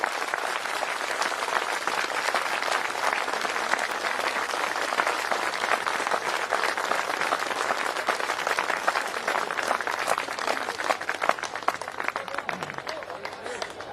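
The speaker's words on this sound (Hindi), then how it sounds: "तब तक ताली बजनी चाहिए जब तक वो अपना आसन न छोड़े।" An audience at a Hindi-language talk gives sustained applause for the main speaker, Dr. Sachchidanand Maurya, a steady wash of many hands clapping that carries on evenly throughout, with faint voices underneath.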